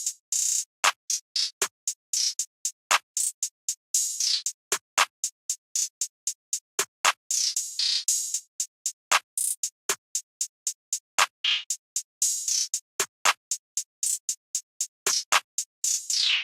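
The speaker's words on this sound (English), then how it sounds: "I laid down a pretty basic openhat pattern which sounds like this" An open hi-hat sample called Rex plays a basic pattern of bright, hissy hits in a steady, tight rhythm, with a few longer sizzling strokes at regular intervals, heard clearly and without talking.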